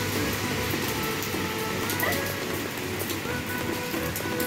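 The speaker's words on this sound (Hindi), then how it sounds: "देखिए रात में बारिश हो रही है" Steady rain falling at night in late September, a dense, even hiss of drops on surfaces that stays close and constant, without pause.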